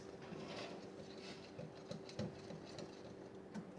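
Banana nut muffin batter with a black-bottom layer is whisked in a bowl, giving faint, quick, irregular ticking and scraping clicks with no talking.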